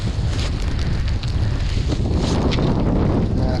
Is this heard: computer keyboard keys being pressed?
no